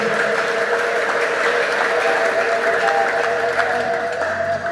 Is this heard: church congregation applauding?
yes